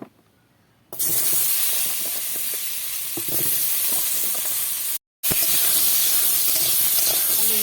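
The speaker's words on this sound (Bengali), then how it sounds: "এবার দিয়ে দেব আলুগুলো কেটে রাখা আলু" Cut potatoes hit hot oil in a pan and sizzle loudly and continuously, with a brief pause midway and occasional stirring clicks, after a quiet start.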